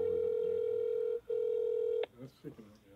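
An outgoing telephone call ringing out, a steady electronic ringback tone that breaks once briefly, then cuts off as a voice begins to speak.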